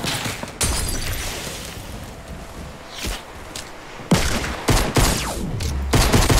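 Pistol gunfire in a Fortnite match rings out as several sharp, loud shots in an irregular sequence, with scattered impacts and movement in between. No one talks.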